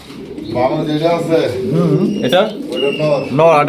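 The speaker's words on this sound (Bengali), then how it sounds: "খুবই সুন্দর একজোড়া পুতুলের মতো একজোড়া ঝর্ণা শাটিন কবুতর" A pair of Jharna satin pigeons coo close by in soft, repeated throaty phrases, with a voice talking over them throughout.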